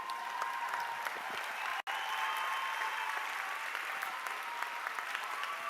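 A large audience at a December university science graduation ceremony gives sustained, dense applause that fills the hall evenly, with one abrupt momentary dropout partway through.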